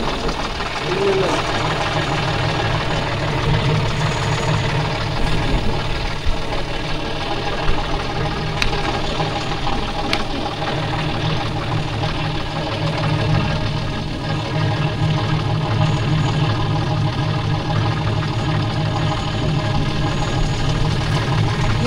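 A Kubota tractor stuck in the mud runs its diesel engine continuously, with a close, steady, knocking rumble and some vibration, while people shout and talk over it.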